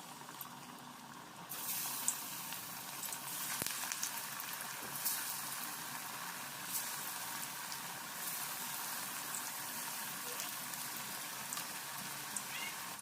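Chana dal garelu deep-frying in hot oil in a kadai, a continuous close sizzle and bubbling with occasional sharper crackles and pops, steady throughout with no talking.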